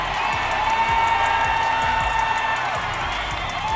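A basketball arena crowd cheers and applauds in a continuous, dense roar, steady in loudness throughout, with a sustained tonal hum and faint rhythmic thumps underneath.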